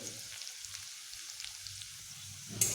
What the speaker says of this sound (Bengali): ভেজে নেব আলুগুলোকে আমি এইভাবে আরেকটু ভেজে নেব